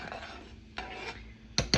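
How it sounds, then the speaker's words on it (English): Spoon stirring a mixture in a pot on the stove, with faint scraping followed by a few sharp clinks of metal against the pot near the end, quiet and close with no talking. "now we're gonna mix this up. I'm just using a spoon"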